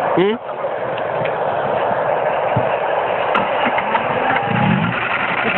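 A Nissan Primera engine with a seized, failing motor keeps running with a steady, rough drone, fairly loud and continuous, while people talk over it.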